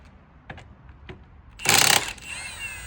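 A few light metallic clicks, then a short loud burst of ratcheting or whirring as a lug nut is spun off a raised car wheel, followed by a fading mechanical ring; no one speaks.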